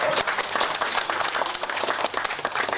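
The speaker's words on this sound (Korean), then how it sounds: "하나님께 영광의 박수를 드리겠습니다" A congregation claps together at a church founding and ordination service in Sancheong, producing sustained, close applause with dense individual hand claps throughout.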